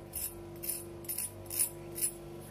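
Homemade KFC-style crispy fried chicken nuggets, resting on a paper napkin, give a run of five faint, crisp crunches spaced evenly about half a second apart, heard up close and alone.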